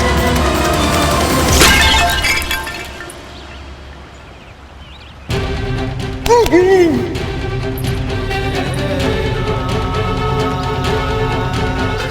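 A clay water pot shatters with a loud crash, followed by scattered clattering fragments, amid a dramatic devotional TV scene with swelling music and background sound effects.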